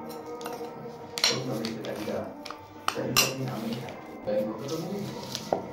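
A spoon clinks and scrapes against a bowl while sugar and other ingredients for a sesame kachori filling are mixed together, giving irregular metallic taps with talking over them.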